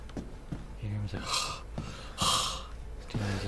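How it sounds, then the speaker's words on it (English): A character in Resident Evil Village breathes hard, with loud rhythmic gasping inhales and exhales close up, while people talk over it. "Why is he breathing all hard?"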